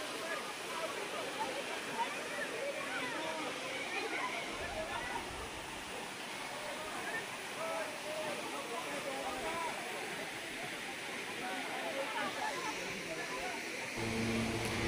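Deojhar waterfall in a green forest park pours steadily in a broad, continuous roar of rushing water that stays near and loud throughout, with a voice faintly under it.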